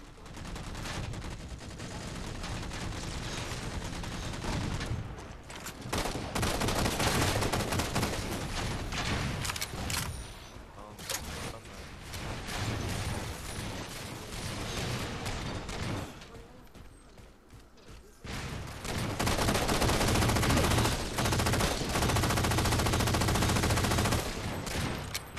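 Dense, sustained automatic gunfire in Halo 4 multiplayer, loud and nearly continuous across the whole stretch with a brief lull midway before bursts resume.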